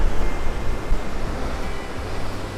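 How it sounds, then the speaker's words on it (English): Ocean water surges and roars through the rocky gorge of Devil's Churn on the coast, a loud, dense, continuous rush of surf with wind buffeting the microphone. "That water shoots clear up the gorge there."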